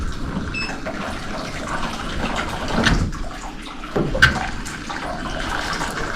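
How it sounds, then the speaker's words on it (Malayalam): Water splashes and sloshes in a bath, a steady wet wash with a couple of louder surges partway through, close by and without talk. "അത് ഫുള്ള് ഇവിടെ സ്പ്ലാഷ് ആവുന്നുണ്ടായിരിക്കും."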